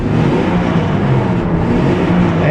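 A small six-cylinder engine on a farm vehicle with a four-speed overdrive transmission runs steadily, a loud, close, continuous rumble with no talk over it.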